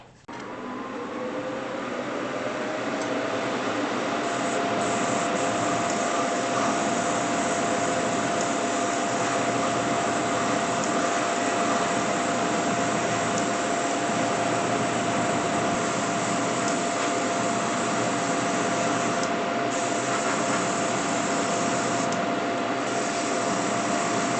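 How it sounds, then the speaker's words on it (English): Ventilation fan running steadily in a scale-model painting workspace, a loud continuous broadband whoosh with a faint steady hum, starting abruptly and holding constant throughout with no talking. "turn on the ventilation"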